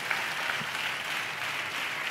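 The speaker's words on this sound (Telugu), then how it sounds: "గట్టిగా చప్పట్లు కొడుతూ స్తోత్రాలు చెప్దాం." A church congregation claps loudly together, producing a dense, continuous wash of applause filling the room for about two seconds without speech.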